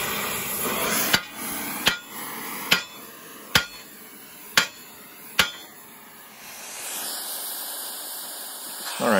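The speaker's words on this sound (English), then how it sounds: "heating up the CV axle and striking it with this hammer" A hammer strikes a seized CV axle six times at a steady pace while it is heated, each blow a sharp ringing clang, followed by a hissing, rushing noise.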